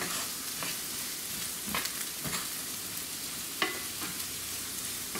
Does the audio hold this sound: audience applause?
no